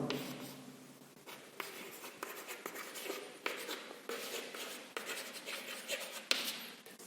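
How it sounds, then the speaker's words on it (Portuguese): A pen scratches out an equation by hand during a physics lesson on friction, giving quiet, steady strokes and taps in an irregular rhythm, recorded close with faint room tone. "deixa eu escrever aqui calculando a normal."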